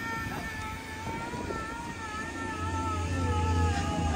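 A Talon F20 boat fitted with a new Suzuki SS 250 outboard motor, a steady idling engine with a whining tone that swells slightly louder toward the end, heard close and alone.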